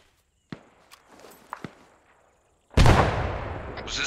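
A frag grenade bursts in the military shooter ARMA 3 after a few scattered footsteps and knocks, a sudden loud, close blast that rolls into a long rumbling tail.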